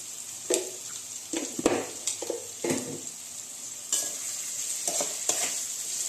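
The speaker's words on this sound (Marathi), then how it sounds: "दोन मिनटं परतून घेऊया" Stuffed brinjals sauté in a pan with homemade Kolhapuri masala, giving a steady close sizzle broken by repeated scraping stirs of a spatula against the pan, with no talking.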